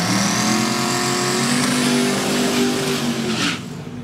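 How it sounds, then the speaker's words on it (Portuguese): A Dodge Dart drag race car on a qualifying run, its engine roaring loud and close and climbing steadily in pitch as it accelerates down the strip, with no talk. "Tá aí Cláudio Castanhon na pista da direita, com o seu Dodge Dart de Dojão, para fazer a sua tomada classificatória"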